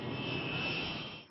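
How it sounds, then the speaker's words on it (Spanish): Aircraft engines of a B-47 bomber carrying atomic bombs, readied for takeoff during the Cuban missile crisis, drone in a steady, loud, continuous roar with a high whine, close by and unbroken, with no voices. "Los bombarderos B-47 con bombas atómicas a bordo estaban listos para despegar."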